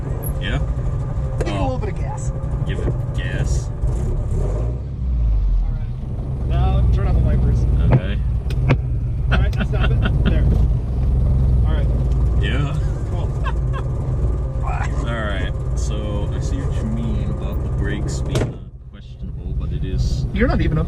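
A 1978 Leyland Mini 1000's small engine hums steadily and revs up under ongoing conversation between people inside the car.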